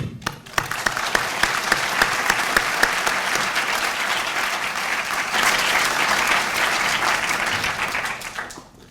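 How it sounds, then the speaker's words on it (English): Sustained applause from a large audience at a medical school white coat ceremony, dense and steady, with sharp individual claps standing out near the start before the clapping swells and then fades. "You have my deepest respect, and I want to applaud you."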